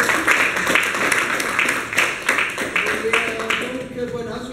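An audience claps for an agent at a gathering, fairly close and steady, with a voice speaking over the tail end.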